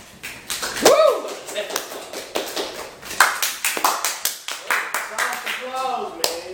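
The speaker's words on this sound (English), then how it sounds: "Applause, man." Scattered audience applause for a comedian at a live show, a thin uneven clapping of a small crowd with a whoop, mixed with talking and a few louder slaps up close.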